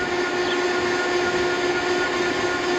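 The motor of a Euphree Robin X+ e-bike under load while climbing a roughly 5% grade hill: a constant, high-pitched electric whine over a steady rushing rumble, close and unbroken.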